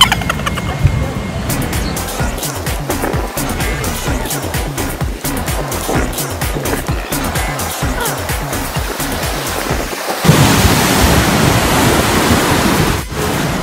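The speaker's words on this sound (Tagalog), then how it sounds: "So, lakas ng alon, di ba?" Strong autumn ocean waves crash and roll continuously, loud and close, with a dense steady surf roar and a heavier surge of water near the end.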